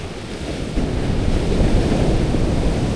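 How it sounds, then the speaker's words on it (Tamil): Sea waves surging and breaking near the port route toward Vizhinjam, with strong wind buffeting the microphone; a loud, continuous roar that swells partway through, no voices. "இதுதான் கடல்."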